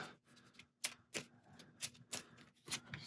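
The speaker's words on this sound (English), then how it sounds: "We'll give this a shuffle." Mini Rogue game cards are shuffled by hand, giving quiet irregular clicks and soft flicks of cardboard near the listener, with no talking.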